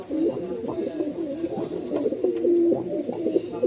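Madrasi pigeons at a breeder's sale cooing close by, soft throaty rolling coos repeating over several seconds with a faint hiss of the room behind.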